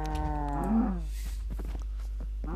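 A cow moos in the Minecraft video game, a single loud, close bellow with a falling pitch lasting about a second, followed by faint background game sounds.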